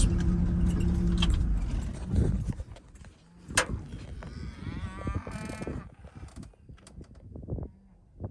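Red cattle on a farm moo loudly several times, some calls near and drawn out, amid shuffling, clattering hooves and general farmyard movement; no talk.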